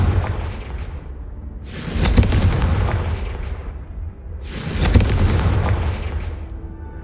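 Two heavy booming blasts from the Confringo fire spell in Hogwarts Legacy, each a sharp burst that rolls off into a long rumbling decay, spaced a few seconds apart over a low continuous background.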